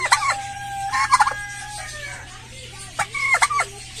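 A male silkie rooster crows in a backyard, several short strained crows with a bird call repeating in bursts at close range.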